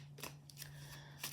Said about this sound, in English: So we're just going to go ahead and shuffle and get our cards in each area.